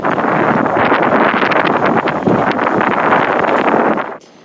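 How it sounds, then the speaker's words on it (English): Strong wind roars steadily across a sailboat as a squall hits near anchor in the Balearics, loud gusty buffeting right at the microphone that cuts off abruptly near the end, with no talk. "So the wind's picked up,"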